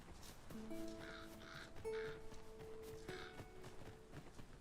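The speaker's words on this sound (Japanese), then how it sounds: "カラスが鳴いてる。" Crows caw several times in the Dragon's Dogma 2 game world. The calls are faint and somewhat distant over game ambience, steady tones and soft footsteps, with no talk.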